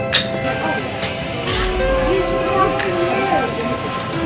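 Glasses clink together in a toast at dinner at a Maldives lagoon resort, a quick bright chime near the start over a background of diners' voices and ambient restaurant murmur.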